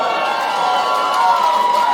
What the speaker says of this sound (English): Why are people clapping about that?